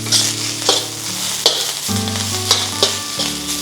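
Rice stir-frying in a hot wok for fried rice, a steady close sizzle with rhythmic scraping and tossing strokes, no talk.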